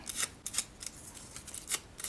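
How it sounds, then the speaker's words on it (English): Scissors snip through paper pieces for a pumpkin-themed paper craft kit, a rapid close series of crisp cuts in an uneven rhythm with no voices. "You could use your paper trimmer also, or longer scissors might go faster"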